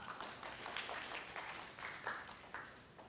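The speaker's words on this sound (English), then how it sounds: "Round of applause for her." Audience applause at a women's empowerment conference opening session, a steady wash of many hands clapping at moderate distance, rising and falling slightly, with no voices over it.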